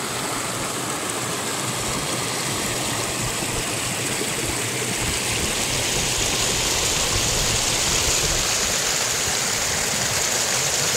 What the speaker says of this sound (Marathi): मागच्या व्हिडिओत पण तुम्ही पाहिलं असेल, एवढंच पाणी वाहत होतं, आत्ता पण एवढंच पाणी वाहतंय